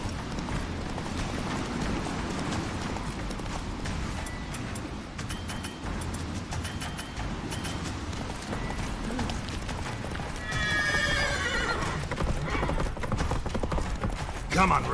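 Roach, Geralt's horse in The Witcher 3, gallops with steady hoofbeats through a chase, mixed with game sounds and brief voices, growing louder near the end.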